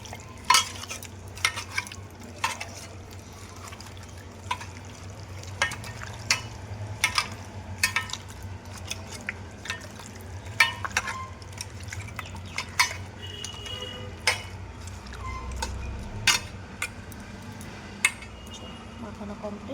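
Puffed rice soaked in milk being mixed by hand in a bowl, soft wet squelching and light stirring sounds with occasional clinks, continuing steadily under a low background hum.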